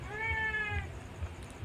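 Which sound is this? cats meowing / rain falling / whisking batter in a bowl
cats meowing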